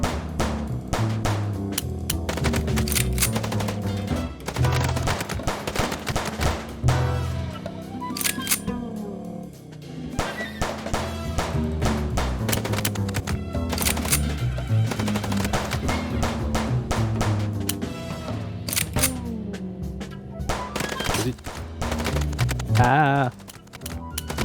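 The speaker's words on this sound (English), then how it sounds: "Ah, encore une phase de shoot." Rapid bursts of gunfire fill a shooting sequence in the Chicken Police video game, sharp repeated cracks packed densely over a continuous game soundtrack, loud and close throughout with clustered volleys and brief pauses.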